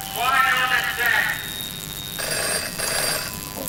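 A telephone rings inside a Five Nights at Freddy's–style horror video game, a bright electronic trill in two bursts over a steady background hum, with someone talking over the start.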